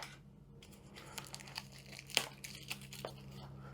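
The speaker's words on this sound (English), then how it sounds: "Opening this cellophane, sometimes it works very well and sometimes it doesn't." Cellophane wrapping on a box being torn open, with crinkling and crackling close by in a quiet room, sharp tearing bursts midway, and faint low rumble from roadworks in the background.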